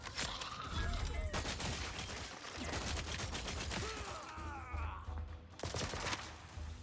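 Rapid gunfire bursts in the video game The Outer Worlds 2, repeated rattling volleys with brief gaps, mixed with mechanical clanks and game effects, fairly quiet overall.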